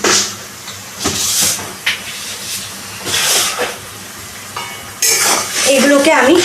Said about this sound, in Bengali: এগুলোকে আমি সবকটা মশলা ভালো করে কষিয়ে নেব যতক্ষণ না তেল ছাড়ছে